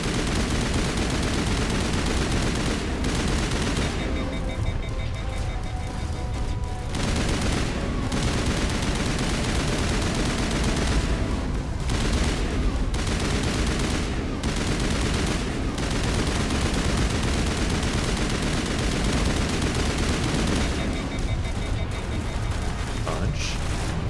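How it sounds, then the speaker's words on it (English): Sustained, heavy gunfire in the sci-fi shooter Mass Effect, a loud continuous roar of shots and booms with someone talking over the battle throughout. "just point my gun and shoot and everyone dies"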